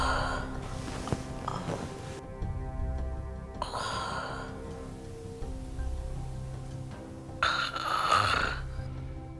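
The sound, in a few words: person snoring through blocked nose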